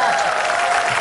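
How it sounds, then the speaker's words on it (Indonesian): Studio audience at an Indonesian TV game show clapping, a short burst of dense, steady applause heard loud and close. "Iya dong, tepuk tangan lagi."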